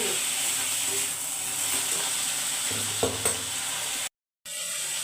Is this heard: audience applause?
no